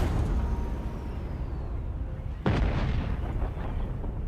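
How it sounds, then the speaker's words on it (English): A ship shot down in the video game Dune Awakening, heard as one sudden, loud explosive boom about halfway through, followed by rumbling debris over steady background noise. "A ship got shot down."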